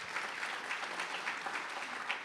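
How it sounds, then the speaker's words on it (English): An audience at a public talk on Christian nationalism applauds. The clapping is faint and distant, a soft continuous patter of many hands. "Sorry to step on the applause there."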